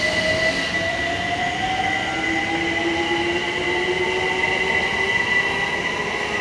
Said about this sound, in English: There goes London Overground to Clapham Junction, departing from West Hampstead, which is in North London.